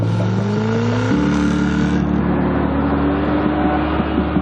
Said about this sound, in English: First thing I noticed about the car is the kind of roar of it.